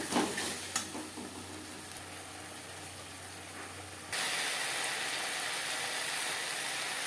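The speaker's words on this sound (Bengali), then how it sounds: "লবণ হলুদ দিয়ে পেঁয়াজ ভেজে নেব" Onions fry in a pan with salt and turmeric, producing a continuous hissing sizzle with a few early scrapes of stirring. The sizzle jumps suddenly louder and brighter partway through and stays steady to the end.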